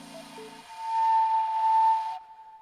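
A slide flute sounds a single sustained whistling tone that swells louder, with a few short breathy notes before it, played with reverb and cutting off cleanly near the end.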